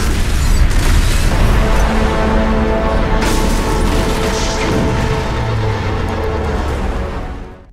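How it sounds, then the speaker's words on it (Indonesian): A loud, sustained roaring blast of a car explosion fills the scene, rumbling and crackling steadily before fading out at the end. "terjadi sebuah ledakan yang berasal dari sebuah mobil"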